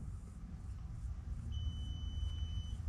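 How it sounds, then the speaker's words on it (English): One thin, high electronic confirmation beep from a solar battery's battery management system holds steady for over a second, faint against a low rumbling background. "Confirmation beep."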